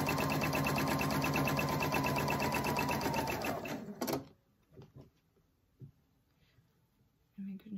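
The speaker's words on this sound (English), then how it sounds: "So if you sew a quarter of an inch, they'll stay out of there, out of the way" Sewing machine stitching a fabric seam, a steady loud mechanical whir with rapid rhythmic needle clatter that runs for about four seconds and then stops abruptly, followed by faint handling sounds.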